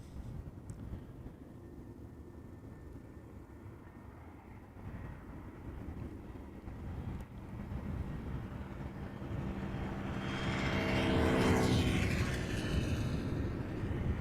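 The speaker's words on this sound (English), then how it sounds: "747 arriving from Baku." A Boeing 747 arriving from Baku lands at Amsterdam Schiphol, a distant low rumble that slowly swells into a louder, brighter roar as the jet passes, with wind noise on the microphone.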